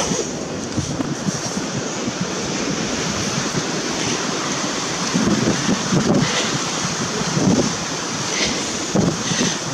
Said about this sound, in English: Hopefully the audio is good because it's very windy